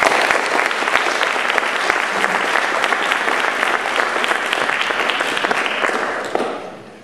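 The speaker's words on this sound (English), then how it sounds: "welcoming round of applause." Loud, sustained applause from a large audience welcoming panelists at a panel event, a dense even wash of clapping that fades out near the end.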